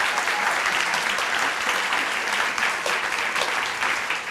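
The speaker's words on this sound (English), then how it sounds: "give one more round of applause to our friends at Trinity" A Family Weekend audience gives a round of applause, with steady, full clapping from many people throughout.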